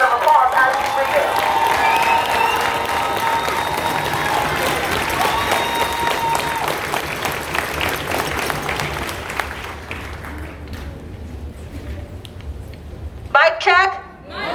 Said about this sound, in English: So let's give Stevie a round of applause as he reads it.